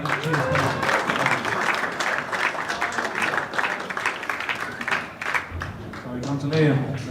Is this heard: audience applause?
yes